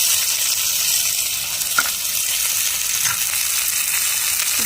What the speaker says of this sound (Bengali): ভালো করে নেড়ে চেড়ে লাল লাল করে ভেজে নেব